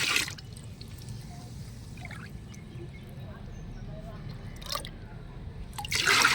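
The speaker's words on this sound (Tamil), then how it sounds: "வேப்பம் புண்ணாக்கு கரைசலை ஊற்றியாச்சு" Neem cake liquid fertilizer is poured from a mug into a container of water for garden use, giving a soft trickling and splashing with drips and a couple of louder splashes at the start and near the end, with no talking.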